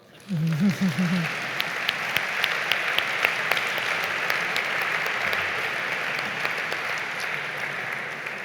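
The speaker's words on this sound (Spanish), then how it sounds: "Aplaudan, aplaudan." An audience at a World Pharmacist Day celebration breaks into applause, many hands clapping steadily at a moderate distance; a brief voice sounds at the start before the clapping carries on alone.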